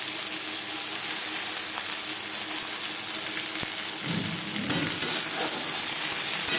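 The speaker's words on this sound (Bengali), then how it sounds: "বেগুন ভাজবো হাই টু মিডিয়াম ফ্লেমে।" Eggplant pieces frying in hot oil over a high-to-medium gas flame, a steady close sizzle with occasional scraping stirs and clinks of a utensil against the pan.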